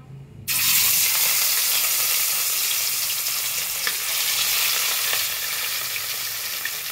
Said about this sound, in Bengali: আমি এবার কাতলা মাছগুলো ভেজে নেব একটা একটা করে।